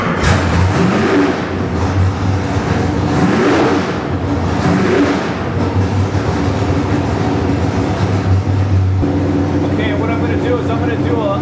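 A Nelson Racing nitrous 441 cubic-inch small-block Chevy V8 cranks and fires into a loud, rumbling idle with lumpy revving close by; a voice is faintly present under the engine.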